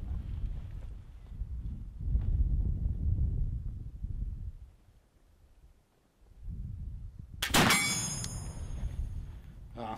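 A blackpowder flintlock rifle fires once, a sharp loud crack with a ringing tail about three-quarters through, after a stretch of low wind rumble outdoors.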